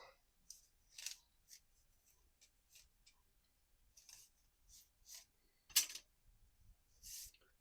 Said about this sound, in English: Favorite thing to use for cutting strip wood.